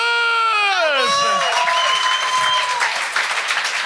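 A falling whistle-like tone gives way to loud, sustained audience applause and cheering in a television comedy talent-show studio, filling the rest of the clip.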